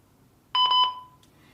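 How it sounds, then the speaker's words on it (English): A single short electronic beep, a steady tone lasting about a third of a second, from a Retevis RB26 GMRS walkie-talkie as its PF1 key is long-pressed, clear against a quiet background. "when we long press the PF1 key, we can hear a beep"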